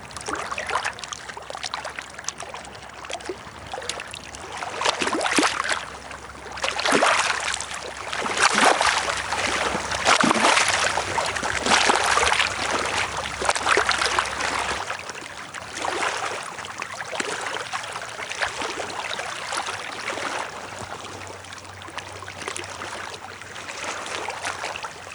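Flowing water rushes and splashes steadily, swelling louder through the middle before easing slightly. It stays close and continuous, with no voices.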